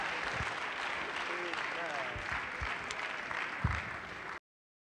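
A church congregation applauds during a worship service, with a steady patter of many hands clapping at moderate volume and a few voices mixed in, before it cuts off abruptly.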